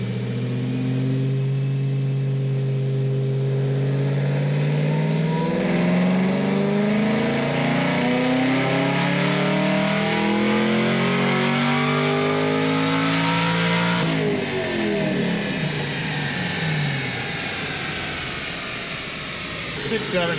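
A modified stock-cam car engine revs on a dyno during a boosted pull, its pitch climbing steadily in a long, loud sweep before dropping off sharply near the end.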